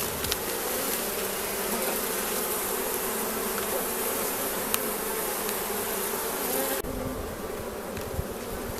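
Honey bees buzz steadily around an open hive during a summer inspection, a dense, continuous drone from many insects close by, with no talking.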